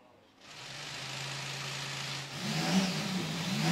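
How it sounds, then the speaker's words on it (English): A Ferrari Formula One car engine catches in the garage and runs at a steady mid-pitched idle, then revs up with rising whine near the end; a voice may murmur faintly underneath. "the firing up of the engine"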